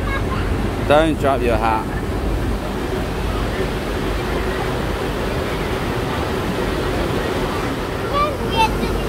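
Water rushing on the Congo River Rapids ride at Alton Towers, a loud, constant roaring wash heard up close from the boat, with people talking over it.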